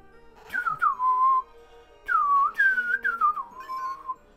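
A person whistling a tune during a Pokémon HeartGold playthrough, clear melodic phrases with sliding notes, close and fairly loud, in two bursts separated by a short pause.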